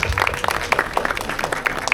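Brief scattered clapping from an audience, fairly close and moderately loud, with individual claps standing out rather than a full roar.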